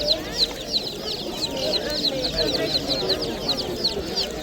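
Many chicks chirping together at a Samarkand bird market, a dense, continuous high peeping that runs throughout, with mixed market noise and faint background voices beneath.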